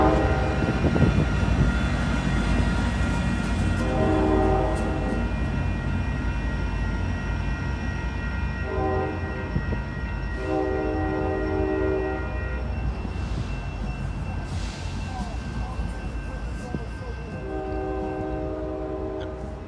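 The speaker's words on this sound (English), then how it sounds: "So this is Amtrak San Joaquin" An Amtrak San Joaquin passenger train rumbles past steadily in Oakland, its horn sounding in several sustained blasts throughout, loud and fairly close.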